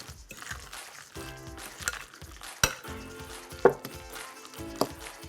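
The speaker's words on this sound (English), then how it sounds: "Okay, one more stir around the bowl." A spoon stirs chunky guacamole around a bowl in quick, rhythmic wet strokes, with a few sharper clicks against the bowl over light background music.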